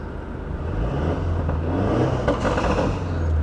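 A remapped Infiniti Q50 2.0T with an aftermarket exhaust and a Mercedes M274 2.0-litre turbo four-cylinder idles and revs close by, a deep throbbing rumble that swells slightly midway, with no talking.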